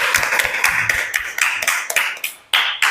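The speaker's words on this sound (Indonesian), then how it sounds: "Beri tepuk tangan untuk semuanya hari ini." Children in a primary classroom clap their hands in quick, uneven bursts, close and sharp, with a brief pause near the end before the clapping resumes.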